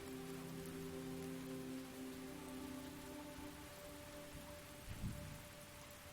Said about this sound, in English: The wind and the rain is far too strong for you to hear what happens next.